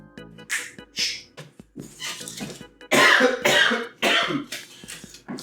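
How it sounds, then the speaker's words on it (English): A run of harsh, loud coughs, one after another in a fit, close to the listener with no talking. "I have a stuffed and runny nose and all these coughing fits"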